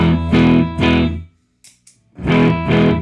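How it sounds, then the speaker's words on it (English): Loud distorted electric guitar chords strummed through a Nocturne Shrunken Brain preamp/drive pedal in two bursts, separated by a short silent gap with a faint click. "Here's a guitar just strumming it."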